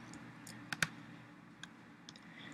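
Several sharp, light clicks of a computer mouse, spaced irregularly with a quick pair near the start and single clicks later, close and quiet over faint room hum.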